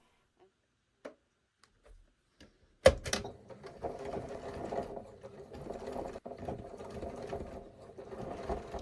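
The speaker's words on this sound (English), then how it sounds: "I'm going to take these over to the sewing machine and I'm going to sew just along the bottom here" After a few faint handling taps, a sewing machine starts abruptly and runs in a steady mechanical whir while stitching along the bottom hem of pleated trousers, close and fairly loud.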